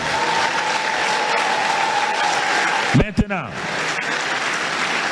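Church congregation applauding in acclaim of the Lord at a prayer meeting, a sustained close wash of clapping briefly cut by a sharp interruption before resuming.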